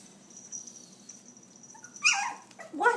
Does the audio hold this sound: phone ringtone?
no